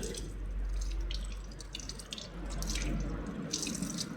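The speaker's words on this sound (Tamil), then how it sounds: "இங்கே நின்று டெப்பில் கழுவுற நேரத்தில் இந்த இப்படி தான் கழுவணும்." A tap runs steadily into a sink during wudu washing, a close, continuous gush of water with splashes and drips as hands move under the stream.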